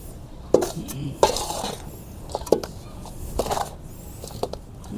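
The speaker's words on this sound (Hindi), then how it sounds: "और इस मिट्टी को अच्छी तरीके से मिक्स कर लीजिए।" Potting soil mixed with bone meal for a potted kaner plant, with repeated scraping, clinking and gritty stirring strokes at an irregular pace, close and fairly loud.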